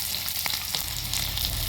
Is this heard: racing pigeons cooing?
no